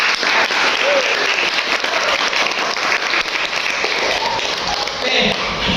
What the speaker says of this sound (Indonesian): Kalian hebat, tepuk tangan untuk kalian.